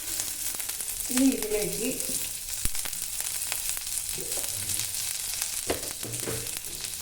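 Spices with turmeric powder fry in a pan for tomato curry, a steady close sizzle under a speaking voice.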